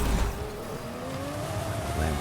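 Lamborghini Centenario engine in a video game, a steady mid-distance drone with a slowly rising pitch as the car accelerates, tires faintly squealing.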